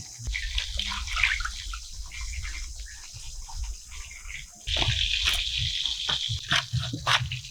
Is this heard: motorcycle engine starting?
no